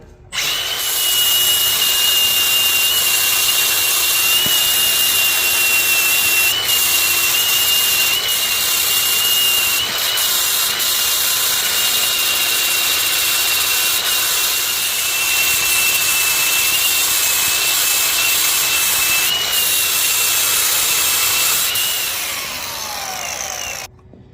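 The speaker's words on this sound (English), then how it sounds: "got my flat disc on. Let's grind these things down." An angle grinder fitted with a flat disc grinds weld off a Sterling 10.5 axle during a one-ton axle swap, giving a loud, continuous high whine and grinding rasp that runs steadily for about twenty-two seconds with no talking.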